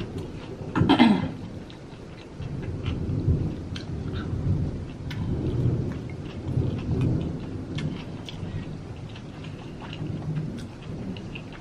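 Steady rain pattering on surfaces with scattered drips, and a loud thunder crack early on that rolls into a low rumble.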